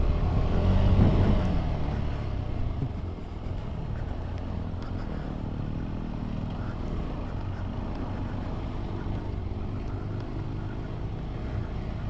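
Hero Impulse motorcycles ride uphill on loose sand during an off-road hill climb, a continuous engine drone that is loudest at the start and then holds steady at a moderate distance, with no talk.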